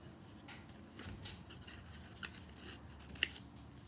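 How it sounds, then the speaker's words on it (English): Scissors snip through folded paper for a Statue of Liberty craft, with a few soft cuts and one sharp closing snip near the end, close and fairly quiet with no talking. "we're going to cut right down the middle, just like this"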